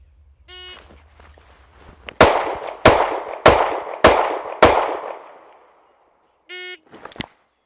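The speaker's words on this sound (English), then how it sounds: "I'm going to be firing 5 shots in a row into the target's body." Five gunshots fired in quick succession at a target from about seven yards, each a sharp, loud crack with a short ringing tail, evenly spaced over roughly two and a half seconds, bracketed by faint electronic beeps before and after.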